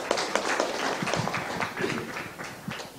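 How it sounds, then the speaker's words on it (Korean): Audience clapping to welcome the moderator of a Korea-Japan relations symposium session, a fairly quiet, scattered patter of hands from a hall crowd, fading toward the end. "힘찬 박수로 맞아주시기 바랍니다."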